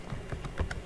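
Fingers type on a computer keyboard in a quick, faint burst of about six light keystrokes.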